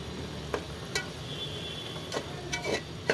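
Chopped fenugreek leaves are stirred in a pan for menthya bath, a soft steady sizzle with several light scrapes and taps of a spoon against the pan, close and without talk.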